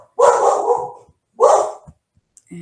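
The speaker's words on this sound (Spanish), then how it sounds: "es mi compañero de ladridos" A dog barks indoors, two loud, drawn-out barks about a second apart, close and clear, heard alone with no talking over them.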